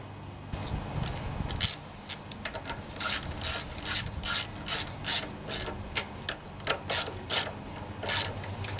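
A hand ratchet snugs down two 10mm nuts on a Homelite pressure washer's Honda 179cc side-shaft engine, making short, close clicking bursts in a steady back-and-forth rhythm, about a dozen strokes.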